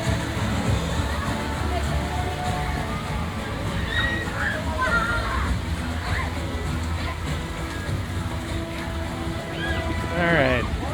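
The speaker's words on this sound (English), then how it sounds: "there's a river coming down through the rocks" River water rushing and sloshing down over rocks at a Moana-themed water attraction, a steady watery wash with crowd chatter and voices mixed underneath throughout.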